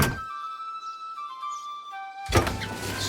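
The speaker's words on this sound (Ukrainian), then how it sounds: "Задні двері відчиняються" A soft tonal hum gives way to a sudden mechanical clunk and rattle as a toy van's rear doors swing open at a toy store, close and fairly loud.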